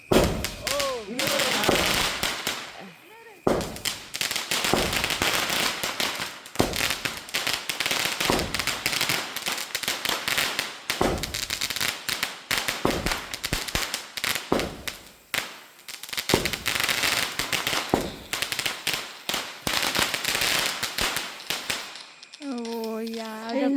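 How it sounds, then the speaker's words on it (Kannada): Strings of firecrackers bursting at a birthday celebration, a long, loud run of rapid crackling pops and bangs with brief gaps, voices heard faintly between bursts, and a tonal whistle near the end. "ನನ್ನ ಬರ್ಡೇ ನಾನು ಪಟಾಕಿ ಹೊಡ್ಸ್ಕೋಬೇಕು ಅನ್ನೋದು ನನಗೊಂದು ಡ್ರೀಮ್ ಆಗಿತ್ತು"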